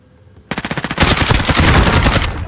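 Loud, close machine gun bursts in a rapid steady rhythm, starting with distinct spaced rounds and quickly building into dense continuous automatic fire.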